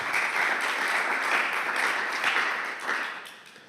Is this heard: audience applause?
yes